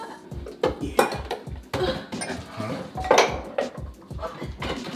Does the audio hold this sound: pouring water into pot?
no